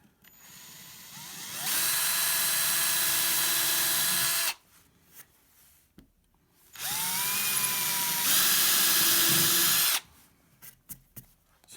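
A power drill bores a centered hole in two sustained bursts of high, whining motor noise, each lasting a few seconds and separated by a brief pause, with small clicks afterward.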